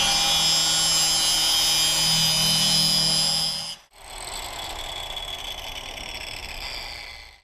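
A grinder fitted with a 3M depressed centre grinding wheel bevels metal, a loud continuous high whine that cuts off abruptly midway, then resumes at a lower, rougher pitch.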